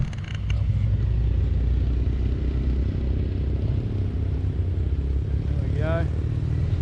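Engines of an old Honda CBR and a Triumph motorcycle running close by, a loud, steady, lumpy rumble that continues throughout, with a brief voice over it.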